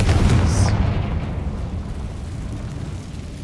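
A Confringo spell blast in Hogwarts Legacy erupts as a loud, close explosive boom, then a deep rumbling tail that slowly fades across the next few seconds.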